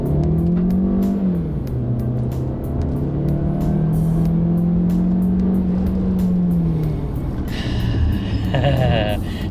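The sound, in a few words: Jetour X70 Plus SUV engine revving while stopped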